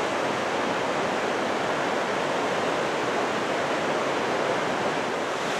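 Hedge Creek Falls in Dunsmuir, California, pours into a deep pool in a small canyon, making a steady, loud, unbroken roar of rushing water with no pauses and no voices.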